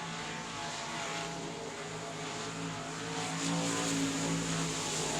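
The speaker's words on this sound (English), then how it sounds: "Going to bring it back down and stab the throttle once again." Race cars on a South Texas dirt speedway oval, a continuous distant engine roar swelling slightly as throttle comes on, heard faintly at a distance.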